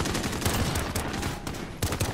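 SKS rifle fire in the video game Modern Warfare: a dense run of loud, close gunshots rattling back to back for about two seconds, with a short gap before a final burst.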